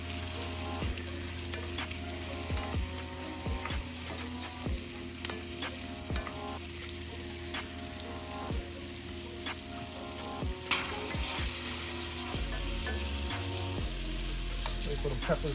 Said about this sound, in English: Wait for the peppers to release their juices. They start blistering.